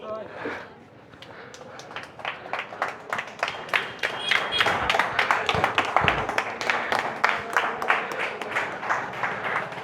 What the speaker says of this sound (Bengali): সবাইকে হাততালি দেওয়া হচ্ছে